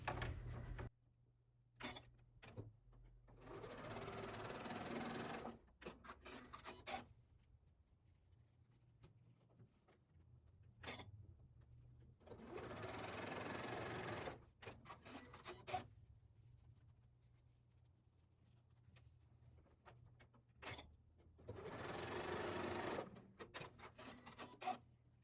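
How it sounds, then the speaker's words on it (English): A sewing machine stitches a pincushion seam from end to end in three sustained whirring runs, with quieter pauses between them filled by faint handling, scraping and a low hum. "And you will stitch from end to end."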